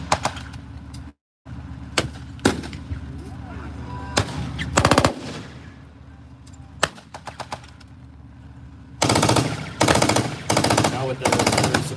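Loud machine-gun bursts and sharp gunshots crack out at a tank battle reenactment, in irregular volleys with a steady engine-like rumble beneath, ending in a long, dense burst of rapid fire.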